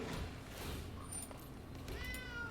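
A cat meows in a short, rising call near the end, set against a steady noisy background during a card game.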